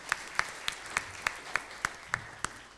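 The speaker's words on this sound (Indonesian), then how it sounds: "tepuk tangan" Slow, evenly spaced claps at a public lecture on multilateralism in a multipolar world, about ten single sharp hand claps in steady rhythm, fairly faint and distant, with no talking.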